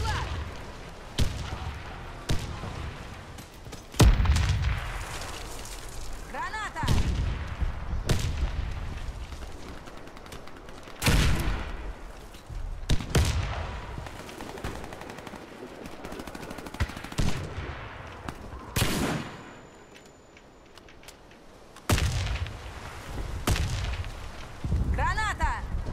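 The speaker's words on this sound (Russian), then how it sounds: "Граната пошла!" Grenade blasts and gunfire from a Warface multiplayer match: heavy booming bursts and rapid shot volleys recur loudly through the clip, with people talking over the action.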